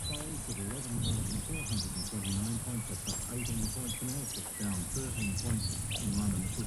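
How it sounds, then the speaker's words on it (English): Birds chirp and sing in repeated bright phrases beside a highway near Nyngan, New South Wales, in December, over a steady hiss of background noise. "Birds sound nice."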